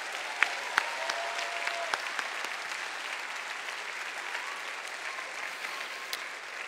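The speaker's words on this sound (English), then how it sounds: "I want to take a brief moment to give a round of applause for all of our teachers and school professionals" Sustained applause from a large graduation audience for the teachers, a steady wash of many hands clapping with a few sharper individual claps standing out near the start.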